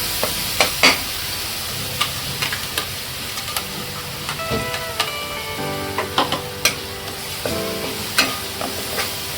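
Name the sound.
ground masala paste frying in oil for eel fish curry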